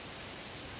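Rain falls in a steady, soft hiss of dense drops, heard alone throughout at a modest level, outdoors on a trip to the Sha'ab area.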